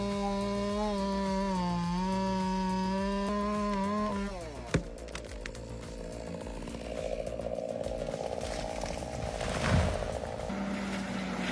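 A big chainsaw cuts into a tree, its high engine whine holding steady and then dropping into rough bogging and ripping as the chain bites the wood. The sound is loud and close, with no voices.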